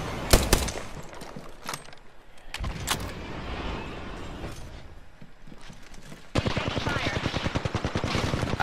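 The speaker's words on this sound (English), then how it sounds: "Opening fire!" Gunfire in the video game Apex Legends: bursts of rapid shots, a few sharp single cracks, then a sustained fast automatic volley near the end, with quieter game ambience between.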